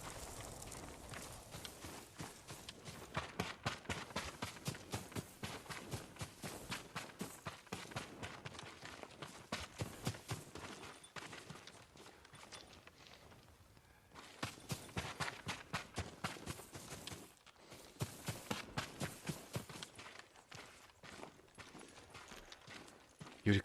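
A horse's hooves clip-clop steadily and close on hard ground for the whole stretch, with an even rhythmic beat that eases briefly in the middle before resuming.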